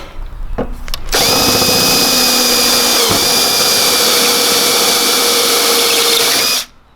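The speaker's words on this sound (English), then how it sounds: "You just take a step bit and a drill" A power drill with a step bit whines loudly and steadily for several seconds after a couple of short clicks, its pitch dipping briefly midway before spinning down abruptly.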